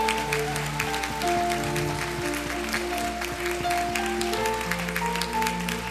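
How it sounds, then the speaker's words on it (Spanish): A church congregation applauding during a Spanish-language worship service, scattered clapping under sustained organ or keyboard chords that hold through the whole stretch at modest level. "Yo creo que puedo darle un aplauso más fuerte al Señor."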